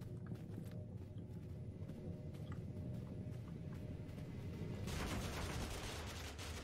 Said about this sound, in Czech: Někdo po mně střílí.